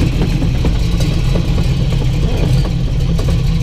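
A 1970 Chevrolet Nova with a freshly reinstalled four-speed runs steadily at a low, rumbling idle. The engine drone is close and continuous with a faint mechanical clatter, and there is no talk.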